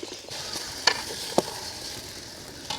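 Chicken frying in a pan over an outdoor wood fire in a village, with a low steady sizzle broken by a few sharp clinks and scrapes of stirring.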